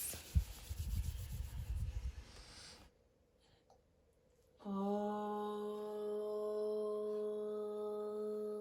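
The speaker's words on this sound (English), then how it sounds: "stroking your baby from head to toe. Repeat 2 more times." Hands stroke a baby from head to toe during postnatal mum-and-baby yoga, making soft, close rubbing strokes for about three seconds before a quiet gap, then steady sustained music tones.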